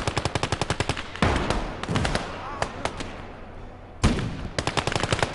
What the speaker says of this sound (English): I'm just going to call an artillery barrage in on that area.